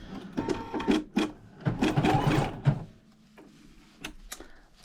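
An embroidery sewing machine starts up and runs, giving a close mechanical whir and clatter with sharp clicks, winding down after a few seconds to quiet handling noises and a final click.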